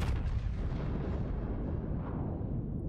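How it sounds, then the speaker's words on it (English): Heavy battleship main guns firing in World of Warships, a loud, sustained low rumbling boom rolling on for nearly three seconds with no voices over it. "Of course, I'm shooting DD."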